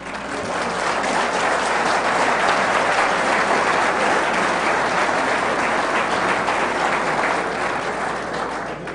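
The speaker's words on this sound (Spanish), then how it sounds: "Ya que aplauden," An audience at an annual board members' conference applauds loudly and steadily, a thick wash of clapping that holds throughout before easing slightly at the end.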